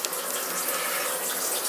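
A Seoul Stone shower head sprays water at full blast, a steady, loud, broadband hiss of rushing water with no talk over it.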